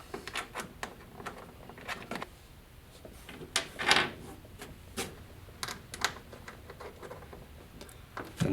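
Cap nuts being fitted onto the mounting hardware of a Wilderness Systems Helix PD kayak pedal drive, giving a string of small, sharp metallic clicks and taps at uneven intervals, close by and fairly quiet, with no talking.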